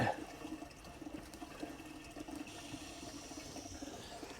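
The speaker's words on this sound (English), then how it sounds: "if I turn that water on for you guys" Water runs steadily from an outdoor tap in a garden beside a lawn mower under repair, a soft continuous gush heard alone at low level for several seconds.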